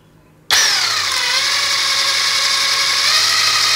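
A Blackfoot 21V brushless 600 Nm impact wrench starts abruptly with its trigger pressed, then runs at a sustained high-pitched whir that stays loud and steady to the end.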